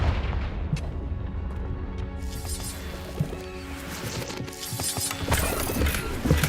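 In the Hogwarts Legacy video game, the Confringo blasting spell sets off heavy booming blasts, with repeated loud impacts and crackling debris over a dense, rumbling game soundscape.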